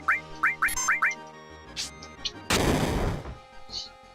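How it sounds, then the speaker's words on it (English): A grenade explodes in Final Fantasy VII combat: a long, loud broadband blast with rumbling tail follows a run of quick rising synth chirps and bright game effects. "I'll grenade him."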